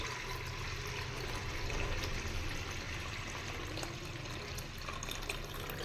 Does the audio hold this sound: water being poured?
yes